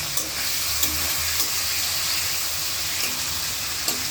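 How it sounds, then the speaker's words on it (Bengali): Hilsa fish heads fry in hot oil with a steady, close sizzle and occasional brief pops and spatters throughout, with no talking. "মাথাটা আমরা এখন একটু লাল লাল করে ভাজবো"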